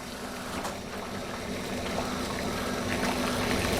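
A pot of water boils on the stove while thermometer probes are tested in it, producing a continuous rolling bubbling and gurgling texture, close and fairly loud, steady with no talking.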